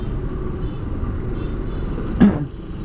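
Road traffic in a jam rumbles low and steady around a motorcycle, with engine and tyre noise close by and one brief louder bump near the end.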